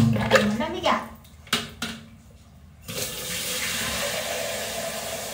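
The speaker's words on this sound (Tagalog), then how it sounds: "Lagyan natin ng mainit na tubig guys." Hot water pouring for a small dog's bath with apple cider vinegar and guava leaves, a gushing splash that starts after some brief knocks and runs steadily to the end, close by.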